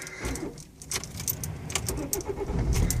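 A car engine cranks and catches into a low, steady rumble that swells toward the end, with keys jangling close by and no talking.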